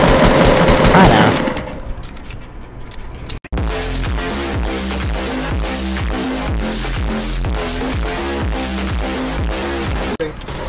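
Dual pistols firing in a video game: rapid, loud, evenly spaced shots run continuously for most of the clip after a brief noisy lead-in, with a short gap near the start.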